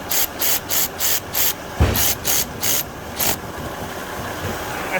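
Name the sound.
quarter-inch drive ratchet tightening GM transmission plug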